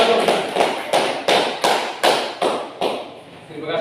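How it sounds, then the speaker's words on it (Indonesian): Students clap in a classroom in a steady, rhythmic beat of about ten sharp claps at an even pace, close and fairly loud. "kita berikan aplaus"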